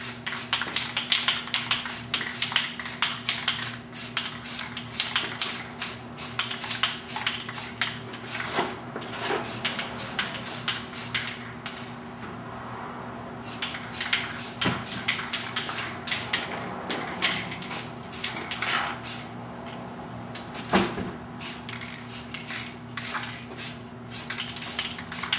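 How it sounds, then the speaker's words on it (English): Rattle-can spray primer hissing onto a 1973 Nova steering column in steady bursts, each burst separated by small clicks and taps, close and fairly loud with no talk. "I'm going to have to hit that with some primer first, and then I'll hit it with a color coat."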